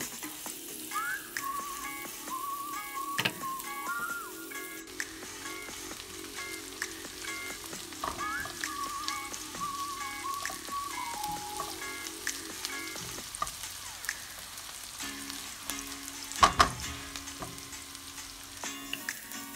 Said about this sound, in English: Now we will fry the garlic and onion very good and let them get a brown color.